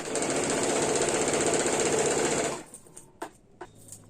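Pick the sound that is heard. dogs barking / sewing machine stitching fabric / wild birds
sewing machine stitching fabric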